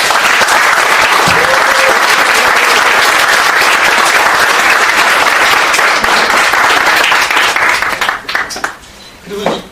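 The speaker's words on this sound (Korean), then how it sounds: "박수 다시 한번 부탁드립니다." An audience at a talk-show style event breaks into sustained, loud applause lasting several seconds, then thins out and fades to scattered claps near the end.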